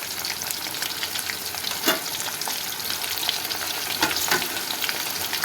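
Ground raw onion paste sautés in a hot pan, giving a steady close sizzle with occasional spoon scrapes and stirring bursts, continuous and fairly loud without talk.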